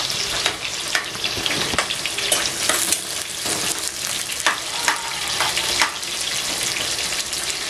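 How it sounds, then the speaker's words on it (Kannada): Finely chopped onions frying in a pan, a steady broadband sizzle with repeated scraping stir strokes, close and fairly loud, no talking. "ಸ್ವಲ್ಪ ಫ್ರೈಗೂ ನಾವು ಸಣ್ಣಗೆ ಹಚ್ಕೊಂಡಿರೋ ಈರುಳ್ಳಿನೂ ಹಾಕ್ಕೋಬೇಕು"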